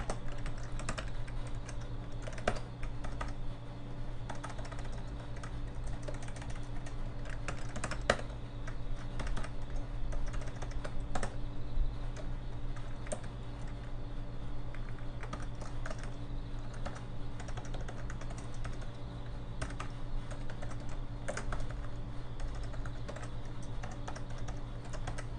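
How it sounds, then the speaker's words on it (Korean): Steady, rapid typing on a computer keyboard, close and continuous with dense clicking keystrokes and no talk. "지금부터 이렇게 마우스 쓰지 않고 키보드로만 진행을 해볼게요"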